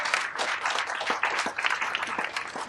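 An audience at a book awards ceremony bursts into applause, a dense burst of many hands clapping together throughout.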